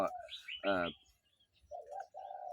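A young bird chirps outdoors, a few bright short tweets followed by a softer cooing call, fairly close and moderate in volume, with a faint voice in the background.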